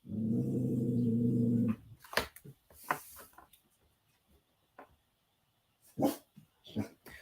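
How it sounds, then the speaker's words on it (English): A dog barks in several sharp, separate bursts at close range, with short pauses between them and a quiet whimper or growl, after a loud steady hum that stops abruptly. "Are you barking at your dad?"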